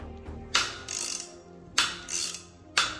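Bearing puller working a tight press-fit centering sleeve out of a BMW 330xd E92 driveshaft, giving three loud, sharp cracking clicks roughly a second apart, each followed by a softer ratcheting grind.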